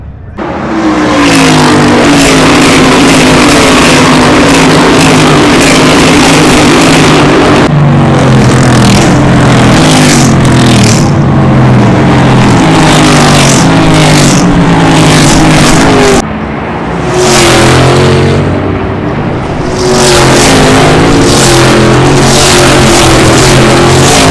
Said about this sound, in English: These cars are pretty loud.